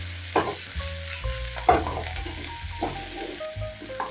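Chicken liver and coriander stems sizzle in a hot pan, with a spoon stirring in several distinct scrapes and clinks over a steady close frying hiss.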